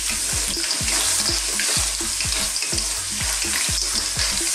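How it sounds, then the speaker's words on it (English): Squid and clams sizzling hard in a hot pan while being stirred, with steady loud frying and a regular rhythm of low scraping strokes repeating about every half second, close and continuous with no talking. "So we will stir this one for a few minutes"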